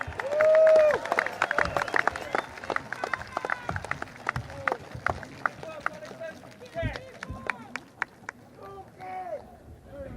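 An election rally crowd for the Progress Singapore Party in Marymount cheers and claps in a busy outdoor wash, with a speaker's amplified voice talking over the noise throughout.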